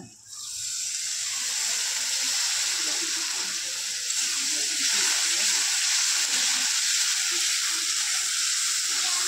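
A little water poured into a pan of frying spices for Bengali cabbage-potato chorchori, giving a steady, loud watery hiss and sizzle that fills the whole stretch, with faint scraping underneath.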